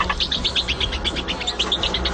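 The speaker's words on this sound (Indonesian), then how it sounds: "mereka berhasil menciptakan tikus yang dapat berkicau seperti seekor burung" A genetically engineered mouse chirps like a bird, producing a steady string of short, high-pitched tweets repeated rapidly throughout. The calls sound close and clear, with no voices.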